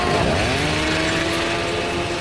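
A chainsaw roars steadily at close range, its high-pitched engine whine wavering slightly as it runs continuously without pause.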